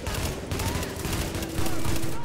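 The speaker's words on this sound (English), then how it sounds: "There's a sniper in this game." Sniper gunfire from the video game The Division rings out in a dense, continuous burst of shots and booms during a chaotic firefight, with voices audible throughout.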